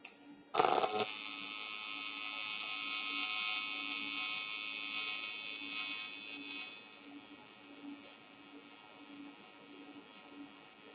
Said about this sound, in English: see if I can get a good shot of welding up one of these seams